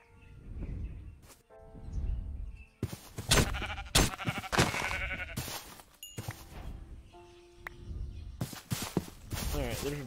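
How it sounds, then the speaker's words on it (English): Sheep bleating in the video game RLCraft, a Minecraft modpack, with several short bleats scattered across the clip along with footsteps and game sounds, and a player talking between them. "Alright, there's my sheep."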